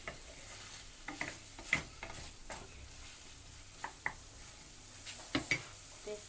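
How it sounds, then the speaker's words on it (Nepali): A spoon scrapes and stirs Nepali alu dam, a spicy potato curry, in a pan with quiet sizzling underneath, giving irregular scraping strokes against the metal at close range. "अब यसलाई मजाले चलाइदिने।"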